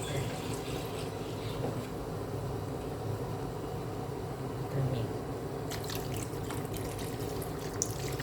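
Coconut milk pours into a pot of Thai taro-stem curry in a steady, continuous liquid stream with a soft sloshing texture, moderately loud and close, running the whole time.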